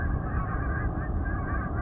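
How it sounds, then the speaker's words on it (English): Geese honking while flying overhead in fog, a loud, continuous chorus of overlapping nasal honks from a flock, with no talking. "Hey, can you hear the geese?"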